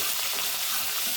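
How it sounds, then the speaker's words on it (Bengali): A fish head frying with onion and garlic gives a steady, dense sizzle of hot oil, close and even throughout the short stretch, with no voices. "আজ আমি মাছের মাথা ভাজছি"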